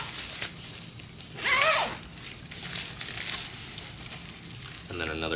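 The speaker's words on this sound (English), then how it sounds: "there's two zipper pockets here" A zipper on a Tumi Alpha 3 carry-on luggage pocket zips open in one quick rasping pull near the middle, with a short clicky rustle near the end and faint room noise throughout.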